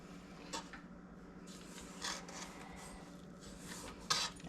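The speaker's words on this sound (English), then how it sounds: "I'm going to stop and stir and scrape down just to make sure that everything has gotten mixed in" A spoon stirs and scrapes a bowl of snickerdoodle cookie dough, giving soft, intermittent rasping and rubbing strokes close by at low volume.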